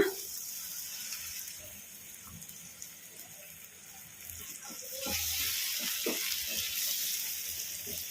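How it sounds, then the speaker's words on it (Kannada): Water from a mixer jar poured into frying masala for a soya chunks curry, then stirred in; a faint sizzle gives way to louder splashing and wet mixing sounds near the end. "ಈ ನೀರು ಹಾಕಿ ಕಲಸ್ಕೊಂಬಿಡೋಣ"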